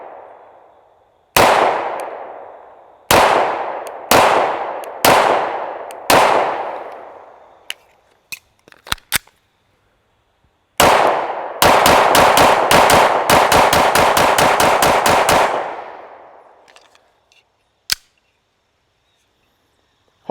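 A Staccato C2 DUO 9mm pistol fires sharp, loud single shots with ringing tails, then a rapid string of about ten shots in quick succession, with a final lone shot after a pause.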